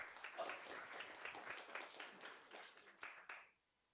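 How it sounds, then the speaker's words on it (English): Steady audience applause at a university game jam presentation event, many hands clapping together for a few seconds before cutting off abruptly into near silence. "Big round of applause."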